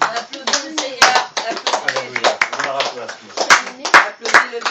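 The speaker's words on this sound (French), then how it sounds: "Applaudis le Seigneur." Congregation clapping hands during a church service, a quick, steady run of loud claps heard over singing and voices throughout.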